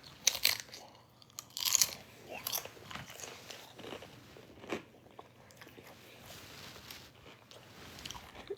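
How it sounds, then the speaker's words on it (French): Potato chips crunched and chewed up close, with sharp loud bites early on, then quieter steady chewing and occasional crunches, no voices. "Là, je mange des chips."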